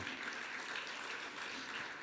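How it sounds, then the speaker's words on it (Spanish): Steady, dense applause from a congregation during a church service, a continuous wash of clapping hands at moderate distance with no talk over it. "Fuerte ese aplauso de alabanza al Señor."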